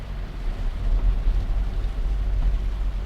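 Rain falls while driving on the Pantura road in Indramayu, heard as a loud, constant low roar of road and engine noise mixed with rain wash, with no talking.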